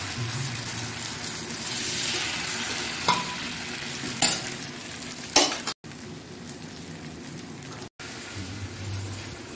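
Rice dosa batter, made from ground rice with a little baking powder, sizzles steadily in a hot pan, a continuous close hiss broken by a few brief scraping knocks and two short dropouts.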